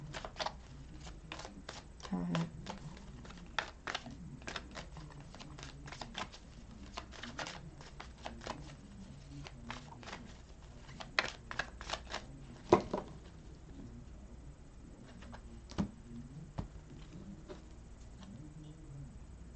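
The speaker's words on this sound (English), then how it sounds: "I keep seeing the same cards as I'm shuffling" Tarot cards are shuffled close up in quick irregular bursts of papery riffles and soft slaps, a long run of crisp clicks with pauses between.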